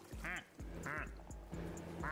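Cartoonish duck quacks in a video game, three distinct loud quacks spaced evenly apart, clear and close with no talking over them.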